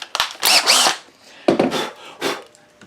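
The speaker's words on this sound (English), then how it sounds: "T20 Torx bit is what we got for these particular screws" Power drill with a T20 Torx bit driving screws into a wooden soap mold with a hinged side: three short whirring bursts, close and fairly loud, separated by brief pauses.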